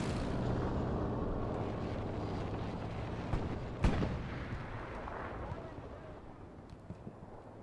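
An aircraft strafing run in the World War II shooter Hell Let Loose, set on Utah Beach: a continuous heavy roar of engine and gunfire rumble, with one sharp blast near the middle, then a slow fade.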